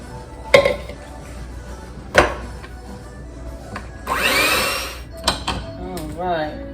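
Butter and sugar being whipped for bakery-style blueberry and Heath candy jumbo muffin batter: a short whirring mixer burst with sharp bowl knocks and clatter before and after, and a voice speaking in between.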